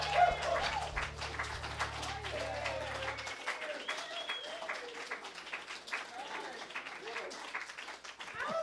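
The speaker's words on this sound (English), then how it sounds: "Round of applause for our musicians" An audience applauds musicians at a Sunday music service, steady clapping sustained throughout at moderate distance, with a low held tone fading out early on.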